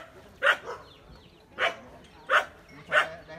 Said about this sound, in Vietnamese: nó sủa.